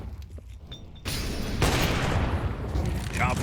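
Sniper rifle shots in a Counter-Strike match: two sharp, fairly quiet cracks in quick succession, the second followed by lingering reverberant noise, with faint commentary in the background.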